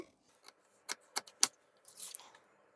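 Scissors cut fabric along a marked line during tailoring, giving several crisp, close snips in an irregular rhythm, followed by a softer rustling swish of cloth.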